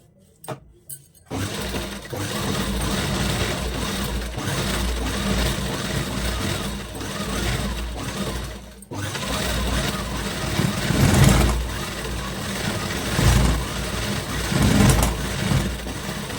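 A sewing machine stitching the edge of a round cushion cover, a close, steady mechanical whirring rattle that runs continuously, pauses briefly, then resumes with slight swells in speed.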